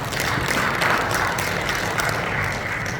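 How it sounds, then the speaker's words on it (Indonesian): Sustained applause from a church congregation during a Sunday service, a dense wash of clapping at a steady level for a few seconds, somewhat distant and roomy. "Tepuk tangan bagi Tuhan."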